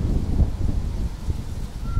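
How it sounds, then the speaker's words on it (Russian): Wind blows steadily at a river in dense forest during a fishing trip, a continuous low rushing roar with gusty swells, fairly loud and close to the microphone, with no talking. "Ветер сегодня, конечно,"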